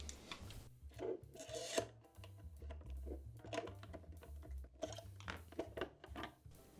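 Cheap screws are driven by hand into an oscilloscope's feet, producing close, irregular creaking, scraping and clicking bursts with brief pauses between turns and no speech.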